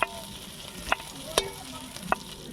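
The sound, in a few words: prawns frying in oil in a kadai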